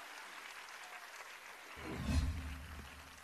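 Faint applause rises from a distant crowd at a World Disability Day event in Uttar Pradesh partway through, swelling briefly over a quiet, hollow room background.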